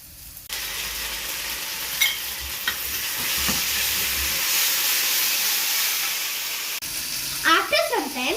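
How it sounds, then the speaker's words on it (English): Szechuan sauce splatters and sizzles loudly in a hot frying pan, a steady crackling hiss with occasional sharp pops that runs for several seconds before cutting off, followed by a brief scrape or clatter near the end. "Take Mama's help to put the Szechuan sauce. Because It will splatter."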